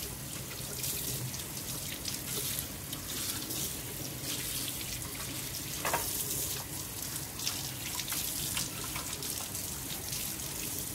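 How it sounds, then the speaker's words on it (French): Hot tap water runs steadily into a sink while something is rinsed, a continuous hiss and splash with small shifting gurgles throughout, close and moderately loud with no talking. "J'ai plus qu'à la rincer à l'eau bien chaude"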